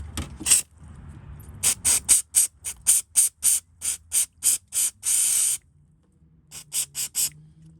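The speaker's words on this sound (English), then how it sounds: "I'm gonna spray it out a little bit more." Repeated short bursts of cleaner spray hiss close by onto the distributor cap of a 1991 Mercedes 500SL, about a dozen quick pumps in a rapid rhythm, with one longer continuous spray in between.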